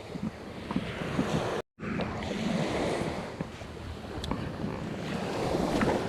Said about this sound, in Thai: ข้างหน้าเนี่ยโหมีเรือนักท่องเที่ยวครับ